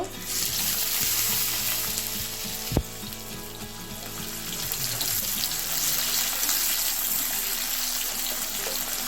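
Chopped onions frying in oil, with a dense, steady sizzle throughout, close and loud, a single sharp knock partway through and a low background hum in the first half.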